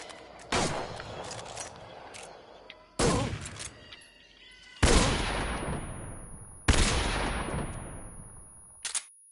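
Stun grenades go off in Metal Gear Solid 3: Snake Eater, four sharp blasts spaced a couple of seconds apart, each with a long ringing decay, then a short fifth burst at the end.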